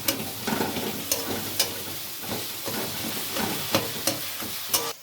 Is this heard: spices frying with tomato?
yes